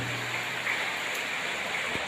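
Heavy rain pours down in a dense, constant hiss with a close, even wash of falling water and no pauses or voices.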